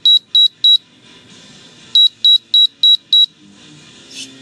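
Loud, high-pitched electronic beeps from a rocket altimeter with an igniter attached: three quick ones, a pause, then five more in steady rhythm, ending with a short warbling alarm tone.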